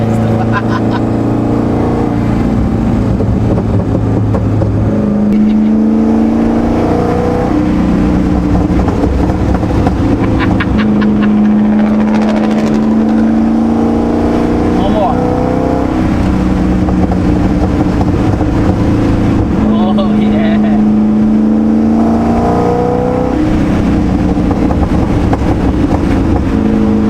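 A homemade cammed Corvette engine revving hard on a dyno in second gear, loud and continuous with rising pitch sweeps and choppy idle between pulls, with someone talking over it.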